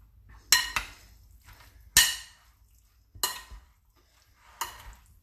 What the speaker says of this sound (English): I guess you would call this folding over.